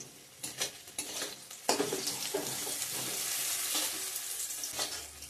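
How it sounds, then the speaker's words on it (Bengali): Bay leaf, onion, cumin seeds and ginger frying in hot oil, with a loud sizzle that surges as ingredients hit the pan, plus stirring and crackling that carry on at a steady level up close. "এখানে ফোড়ন দিয়ে দিচ্ছি তেজপাতা, পেঁয়াজ, গোটা জিরা, আর একটু আদা দিয়ে দেবো এখন।"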